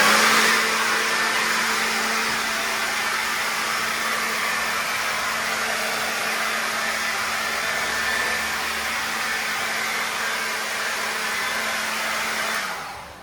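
Ryobi One+ cordless blower running steadily while blowing out cobwebs indoors, a loud close whooshing roar with a faint motor whine, constant for the whole stretch before cutting off.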